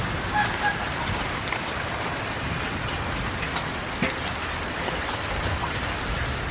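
Steady rain pours down outdoors while catfish grills for a Thai meal, a dense, even hiss of drops drumming on surfaces throughout with no voices.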